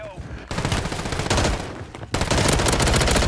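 Rapid automatic fire from a Striker 9 submachine gun in Call of Duty Modern Warfare III on Rebirth Island, loud sustained bursts with a brief pause before a second dense stream of shots.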